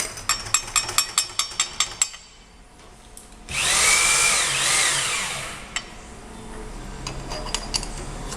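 A number 7 tap drill cuts into metal in a machine shop, a loud high-pitched whine and screech lasting about two seconds, with rhythmic mechanical knocks and taps before it and scattered clicks after.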